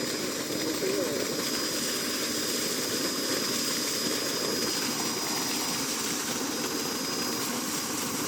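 The engine of a solar water pump runs on a farm field in Gerona, Tarlac, giving a steady, loud, continuous drone throughout while people talk over it.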